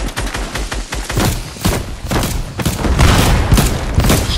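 Explosive rounds and heavy gunfire in Fortnite, a loud, dense barrage of booming blasts and rapid shots that builds and rolls on continuously.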